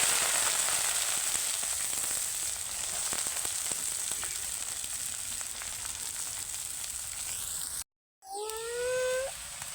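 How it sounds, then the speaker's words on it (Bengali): Ginger and dried chili sizzle steadily in hot oil in a pan, then after a brief break a fresh burst of sizzling follows as kalai greens are added. "আমার আদা আর শুকনো মরিচ ভাজা হয়ে গেছে, এখন আমি কলই শাকগুলো দিয়ে দেব"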